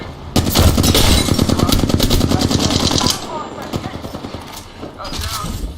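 Rapid automatic gunfire in an Apex Legends firefight, dense bursts for about three seconds and then sparser shots, with speech underneath.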